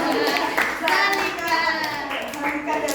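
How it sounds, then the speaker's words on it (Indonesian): Classroom clapping for a student named Malika during a lesson on human activities and carbon dioxide; a steady patter of hands from a group, with children's voices and chatter mixed in throughout. "Kita kasih tepuk tangan buat Malika"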